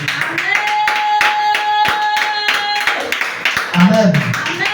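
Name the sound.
congregation clapping to acclaim the word of the Lord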